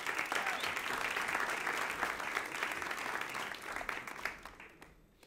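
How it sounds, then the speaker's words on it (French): A church congregation applauds warmly, a dense burst of many hands clapping that holds steady for several seconds and then gradually thins out and fades. "Est-ce qu'on peut l'applaudir également?"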